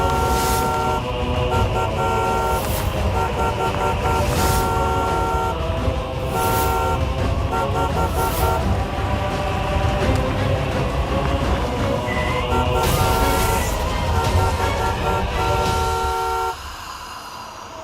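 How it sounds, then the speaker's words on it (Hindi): A car horn honks repeatedly in long blaring tones, in regular bursts over a steady engine drone, loud and close, cutting off near the end. "कब से हॉर्न बजा रही हूँ।"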